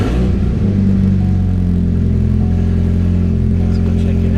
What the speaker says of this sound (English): let's go ahead and start it up, see if we have anything going on. This is probably going to be pretty loud because it's just right off the downpipe.